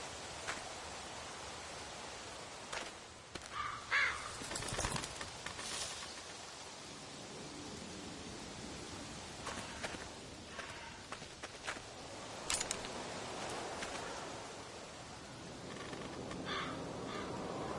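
A crow cawing in The Walking Dead game, a few harsh caws spread over a quiet outdoor ambience with faint rustling and soft footsteps, no voices.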